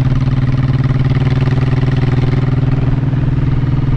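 A vibrating motorcycle engine idles steadily with a loud, even low rumble and a faint mechanical clatter, running alone without any voices.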